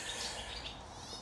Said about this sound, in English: really, birds?